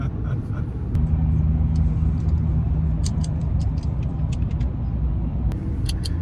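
A Chevrolet 1500 pickup with the 3.0L Duramax diesel lapping a banked track, its steady low engine and road rumble droning continuously from a near, in-cab position, with faint higher ticks and rattles above it.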